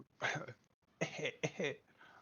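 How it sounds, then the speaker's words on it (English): Several harsh, close coughs in quick bursts, separated by brief pauses, with a fainter rasp trailing at the end. "that's me coughing, not him."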